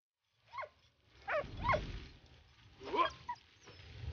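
A dog in the video game Valiant Hearts whimpers and gives a few short yelping barks, spaced out and fairly quiet, with some low rustling between them.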